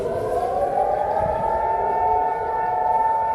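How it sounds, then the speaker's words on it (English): A loud, steady wailing siren sounds continuously, its tone rising slowly and holding, with faint background noise beneath. "the siren goes off"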